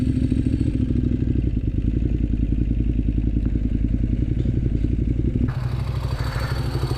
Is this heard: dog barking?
no